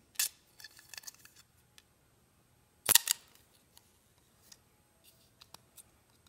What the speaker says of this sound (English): take your straw and we're going to cut the ends off of it to make a point.